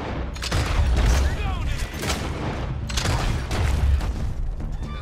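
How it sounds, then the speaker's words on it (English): Shotgun blasts in Red Dead Redemption 2 boom in a chaotic firefight, heavy low-end bursts repeating over the noise of the game. "Good thing I took the shotgun."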